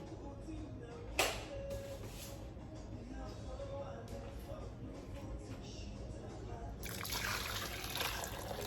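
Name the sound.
pouring hot water over meat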